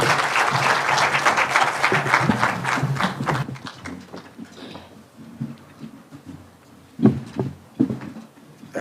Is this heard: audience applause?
yes